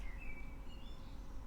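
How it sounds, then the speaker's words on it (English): Thin, faint chirps and whistled notes from a small bird singing just outside a window, distant over a low hum of outdoor ambience. "real bird sounds outside, just outside my window."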